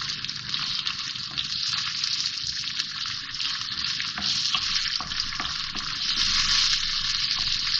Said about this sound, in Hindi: लहसुन अदरक डाल के मैंने थोड़ा सा भून लिया है इसको। अब ये टमाटर डाल रही हूँ इसमें